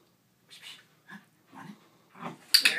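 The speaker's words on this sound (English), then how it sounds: "See if we can get a bark out of him." A few short, soft vocalizations from a giant schnauzer puppy, small whimpers and a brief bark, spaced out and close by, followed by a sharp hiss at the end.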